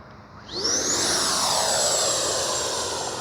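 A Freewing F9F-8 Cougar 80mm RC jet roars past with a rising whine and a sweeping doppler shift as it swells loud and close, then holds a steady rushing howl.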